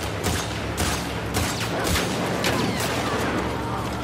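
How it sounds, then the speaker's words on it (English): Dense suppressive gunfire from The Last of Us Part II: a continuous barrage of overlapping shots and booms fills the whole stretch, loud and steady with sharper bursts scattered throughout. "just put some suppressive fire down"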